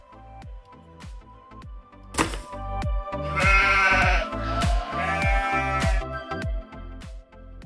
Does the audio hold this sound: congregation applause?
no